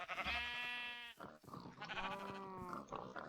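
In the video game Forever Stranded, a sheep gives two drawn-out, wavering bleats separated by a short pause. The bleats are clear and close with no voices.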